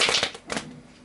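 Tarot cards are shuffled by hand in a few quick, papery riffling bursts, close and moderately soft, with a brief pause between them and no talking.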